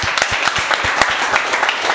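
Scattered audience clapping in a room, a steady patter of hands with some sharper individual claps, fairly close and moderately loud, with no talking over it.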